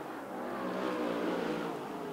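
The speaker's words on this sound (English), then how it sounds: "As Brad Williams comes out of turn four, takes the white flag. One lap to go." Late model stock cars racing at Canyon Speedway Park during a heat race, engines roaring in a sustained, moderately distant rising drone as the field comes around the final lap.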